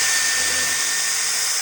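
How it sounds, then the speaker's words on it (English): A power drill whirs steadily in a brief, loud burst as it bores a small hole in a gothic garden craft piece, with no talk over it. "So I'm gonna pop a little drill hole there."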